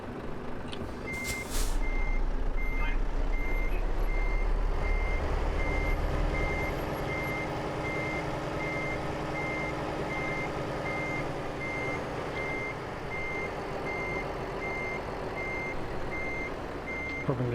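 Evenly spaced electronic reversing beeps repeat for a long stretch over a loud, steady truck engine rumble, with a brief hiss of air near the start, in Euro Truck Simulator 2.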